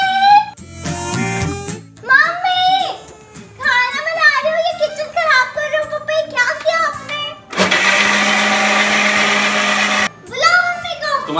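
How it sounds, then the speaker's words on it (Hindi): A faulty kitchen mixer grinder roars loud and steady for a few seconds in a home during a Navratri Kanya Bhojan gathering, with children and adults talking before and after. "मिक्सर खराब है तो उसमें मैं क्या करूं फिर?"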